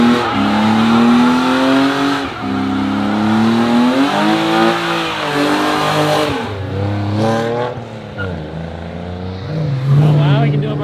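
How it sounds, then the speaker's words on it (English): A car does a burnout at a VW Days event, its engine revving hard and rising and falling in pitch with bursts of tire squeal, while voices talk over the noise. "he can do a burnout, but he can't drift"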